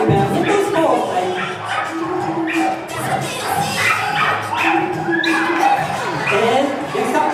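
Dogs taking part in a pole-weaving agility event give several short barks and yips, mixed with lively crowd noise and a commentator talking over them.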